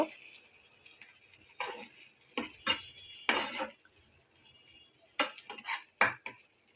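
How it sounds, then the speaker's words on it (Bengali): Shrimp frying with sugar in a pan, heard as bursts of metallic spatula scraping and clinking against the cookware, several separate stirring strokes over a faint background sizzle, close and fairly quiet, with no talk. "তো যাই হোক চিনিটা দিয়ে ভালো করে আমি একটু ভেজে নিব"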